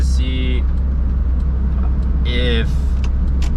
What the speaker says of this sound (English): Alright, so I'm driving the car now.